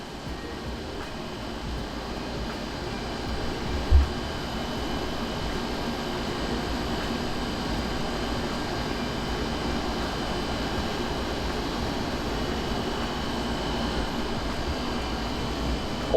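Steady, even drone of Brabus Shadow 900 boat engines idling at 900 RPM, a continuous low rumble with broadband hiss and no change in pitch, with one brief thump partway through.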